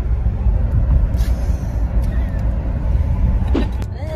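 Car cruising at about 75 km/h on an open road, a steady close rumble of engine and tyre noise with faint brief sounds from inside the cabin.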